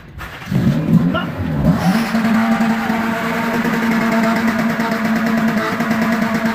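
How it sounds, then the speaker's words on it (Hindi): A car engine revs hard and then settles into a steady, loud, sustained drone as the vehicle is held back by hand, with a voice briefly audible over the start. "अभी हमारे गुब्बारा बाबा अपने हाथों से गाड़ी रोकेंगे"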